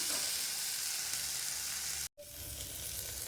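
Okra sautéing in a pan, a loud continuous sizzle close by that cuts out abruptly for a moment and then resumes, no talking.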